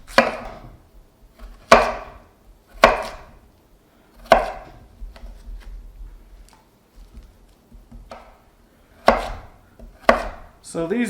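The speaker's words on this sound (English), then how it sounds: "it's just going to be as simple as cutting this into fries" A knife chopping peeled jicama into fries on a cutting board, with sharp, irregular thuds spaced a second or so apart and quiet pauses between them, close and alone.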